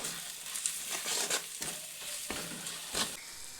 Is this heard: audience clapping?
no